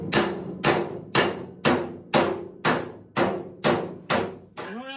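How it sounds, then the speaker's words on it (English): Ten evenly spaced, sharp metallic hammer blows ring out one after another, close and loud, as a hammer and dolly work a dent out of a 1972 VW Super Beetle body panel. "I have to hammer and dolly that a little bit."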